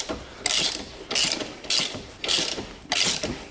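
A ratchet wrench clicks close-up in five quick, evenly spaced bursts while loosening an 18 mm suspension arm nut on a BMW 330D E92.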